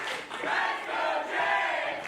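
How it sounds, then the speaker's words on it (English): A wrestling crowd at a pro wrestling show roars and cheers in a sustained dense wash of voices, loud and continuous with swelling chants. "The crowd getting behind Mr. International."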